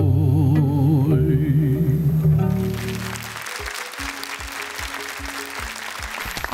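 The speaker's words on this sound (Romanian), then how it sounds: "Aplauze pentru bucurie," A cello-and-baritone concert where sustained instrumental music fades out and gives way to a broad, steady round of audience applause with faint low tones beneath.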